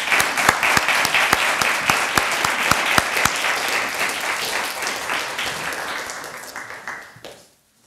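Audience applause welcoming a guest lecturer to the podium at an academic talk, steady dense clapping from a full room with a few sharper nearby claps, sustained for several seconds before tapering off to silence.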